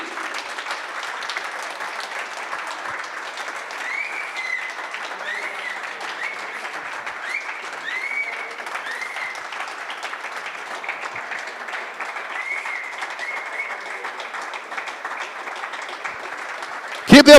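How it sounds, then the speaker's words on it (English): A live audience applauds steadily through a darts trophy presentation at the WDF World Open 2024 men's final. The dense clapping lasts about seventeen seconds at a fairly even level, with cheers and whistles rising above it. "Keep the applause going for Jimmy Van Schie."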